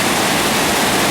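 Mountain stream water tumbles and crashes down a Colorado mountainside, foaming white, heard as a loud, dense, unbroken roar close by.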